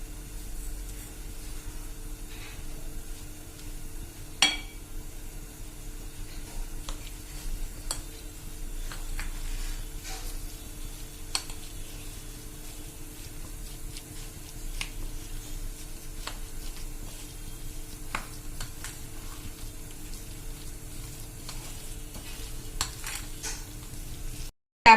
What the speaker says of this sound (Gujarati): અને હવે આ બધું આપણે મિક્સ કરી લેશું।